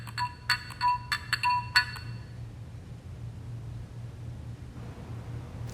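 A 1936–37 Western Electric Model 302 desk telephone rings with a few sharp metallic bell bursts, close and clear, then the ringing stops and a quiet hum remains.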